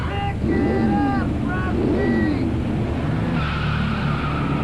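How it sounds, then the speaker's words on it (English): Stock cars race at a 1995 NHIS event, with loud squealing tires skidding and sliding over a constant roar of engines and crowd noise throughout. "Genuine draft Rusty Wallace stock car."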